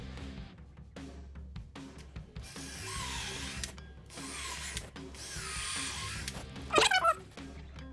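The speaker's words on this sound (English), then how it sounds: "I'm just going to be using an 1/8 inch drill bit for this." Several short bursts of a power drill with a 1/8 inch bit whirring into wood, pre-drilling holes for casters on a workbench, with brief pauses between runs and a small squeak near the end.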